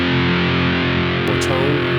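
Electric guitar played through a T-Rex Dr Swamp distortion pedal with the gain pushed up, a thick, sustained high-gain chord ringing loudly and close, briefly shifting near the end.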